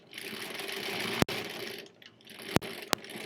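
Sewing machine stitching foundation paper piecing for a quilt block, a close rapid whirring run, a brief pause, then short bursts separated by sharp clicks as it goes back and forth.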